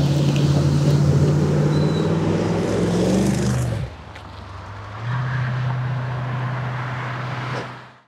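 A 1963 Buick Riviera custom with a nailhead V8 runs loudly, a deep steady drone that dips sharply partway through, then returns at a lower hum before fading out at the end.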